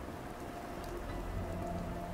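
Steady rain falls in the video game Fallout 4, a continuous even patter with no talking over it.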